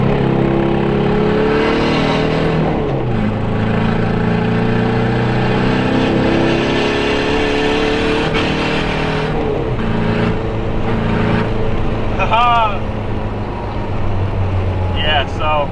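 A lowered, stanced car accelerates hard, its engine revving up steadily with rising, sustained drone and gear changes, loud and close throughout, with faint chirping sounds late on.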